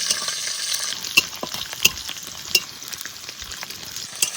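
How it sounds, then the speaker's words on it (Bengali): Garlic, green chilies, dried red chilies and black cumin seeds frying in a pan: a soft continuous sizzle with a few sharp spoon clinks against the pan, close and without talk. "এবার একটু ভেজে নিয়ে এইগুলো, তারপরে পটল দেবো"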